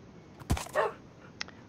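A brief wolf whimper and yip in Minecraft, a short high whine followed by a fainter squeak, over a quiet background.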